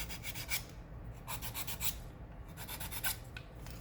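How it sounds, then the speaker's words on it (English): Sandpaper rasping the corners off a small wooden automaton piece, a quiet, close scratching in short repeated strokes with brief pauses between them. "I'm going to go ahead and sand these corners off"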